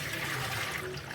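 Water pours steadily into a large cooking pot in one continuous gushing rush, close and fairly loud for about a second, with no talking.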